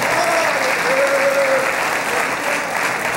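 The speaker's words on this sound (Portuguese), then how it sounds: "Pode aplaudir, coitada, ficou sem graça," Congregation at a religious service applauds steadily throughout, a dense, even clapping with a faint voice briefly audible underneath.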